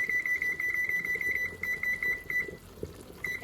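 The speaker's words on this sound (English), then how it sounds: "put the timer on for 20 minutes" A kitchen timer alarm goes off beside a pot of rice cooking on low heat, a fast repeating high electronic beep that runs steadily, pauses briefly, then resumes over faint simmering.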